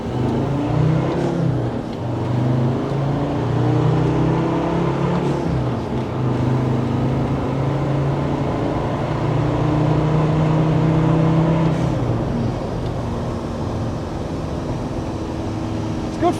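A Land Rover Defender Td5 90 with a Darkside Developments turbo kit pulls hard in second gear, its diesel engine droning loud and steady as revs climb and fall, with turbo whir over a continuous close-up roar.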